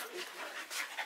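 Dogs pant quickly and breathily near the microphone in a short burst, a soft rhythmic huffing with a faint whimper, heard during a trip home after picking the dogs up.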